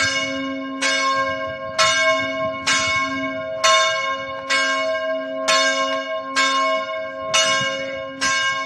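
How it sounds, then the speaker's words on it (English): Church bells ring at St. Mary's Church in Kotor, Montenegro, a medieval town church built in 1221, with about nine evenly spaced strikes whose ringing tones overlap and sustain between blows. "The bells are ringing."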